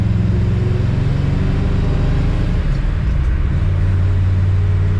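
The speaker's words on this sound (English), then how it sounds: "Really nice running car. Sounds great." A 1962 Chevrolet Biscayne engine idles steadily nearby, a deep, even rumble with a smooth low throb that barely changes for the whole stretch, heard alone without talk.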